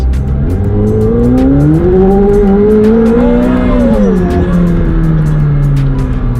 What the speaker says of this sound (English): There was wheel spin. There was a little wheel spin.